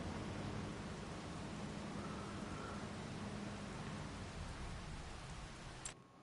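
Steady rain from the Farming Simulator 25 video game, a broad even hiss that holds constant throughout with no voices, ending in a brief faint click.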